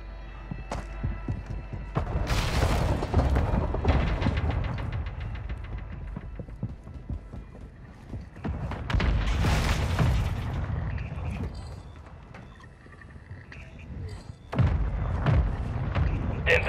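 A loadout drop crashes down in Call of Duty MW2 Resurgence on the Vondel map, a series of heavy booming thuds and bursts over dense game noise, loud and close, with several strong impacts spread across the stretch.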